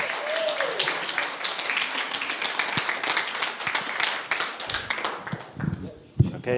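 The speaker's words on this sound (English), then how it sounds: "give him a big hand of applause" Crowd applause for a guest speaker at a Kilkenny Community Church Sunday service: dense, steady clapping from a roomful of people that holds for about five seconds, then thins out into a few scattered claps.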